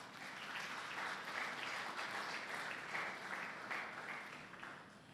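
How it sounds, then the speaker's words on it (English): Steady applause from a crowd of students at a nursing clinical graduation ceremony, honoring parents, mentors and guardians; dense, sustained clapping fills the hall at even loudness from start to finish. "Dear students, give them a round of applause, please."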